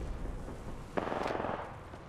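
An artillery strike lands in the Apex Legends video game, a single sharp blast at about one second followed by a broad rumbling roar that swells and slowly fades over steady background game noise.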